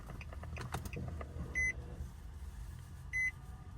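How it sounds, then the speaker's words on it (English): Ignition of a 2008–2012 Infiniti G37 switching on with a smart key, heard as two short electronic chimes inside the quiet car after a few faint clicks and key handling. "and turn on the ignition."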